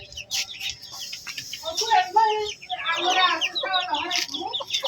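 Laying hens clucking nearby in a damp yard, a series of close, rising clucks and chatter that grows busier toward the end, with some chirps mixed in.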